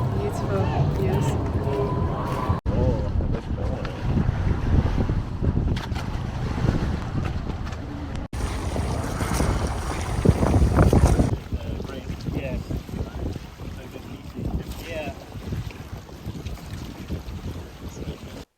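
A boat cruises on the sea off Boracay, with a steady engine and water rumble and heavy wind buffeting the microphone, while people talk faintly over it.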